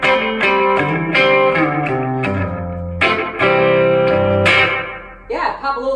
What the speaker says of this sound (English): That's some kind of delay that gets a little darker,